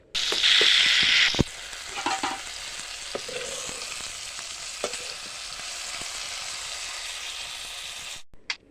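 Green chillies frying in a pan on a home stove, opening with a loud, bright hiss for about a second, then settling into a steady, quieter sizzle with scattered pops and stirring clicks.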